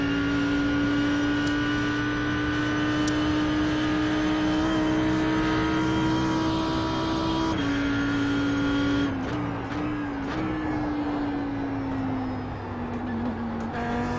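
An Audi R8 GT3 race car engine at Bathurst in a racing video game holds a steady high whine, then shifts and changes pitch as the car slows near the end, loud and continuous with no talk.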